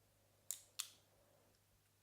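Scissors of a Leatherman Free P4 multitool snipping shut twice in quick succession, crisp close metallic clicks in a quiet room, with a faint third click at the end.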